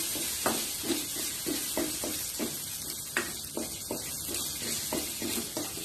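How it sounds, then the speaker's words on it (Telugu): Turmeric and curry leaves fry in hot oil for a fenugreek-coriander chutney tempering, giving a steady close sizzle and hiss with repeated soft stirring scrapes at a regular pace, and no talking. "తాలింపు వేగిపోయిందండి."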